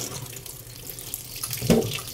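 Water runs from a tap in a steady close hiss and splash, with a brief louder gurgle near the end as the stream strikes a container.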